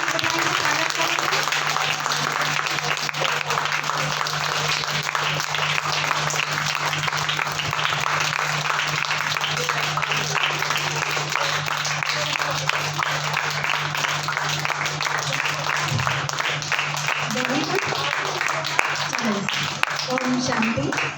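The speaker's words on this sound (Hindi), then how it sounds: "जब तक सभी तेज से ताली बजाएंगे," Children at a summer camp clap together to welcome a guest, a dense, sustained burst of applause from a group indoors that runs throughout, with an adult voice speaking over it.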